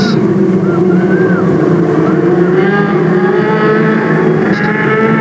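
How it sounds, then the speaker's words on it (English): Race cars in a 600 division heat race at Delta Speedway roar and rise in pitch as they accelerate, a loud continuous engine drone with layered revving tones, with some crowd or announcer noise mixed in. "Here they come, stand on the gas."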